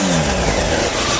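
A Honda VFR1200 motorcycle engine revs hard and loud close by, a dense continuous roar rising in pitch over about a second.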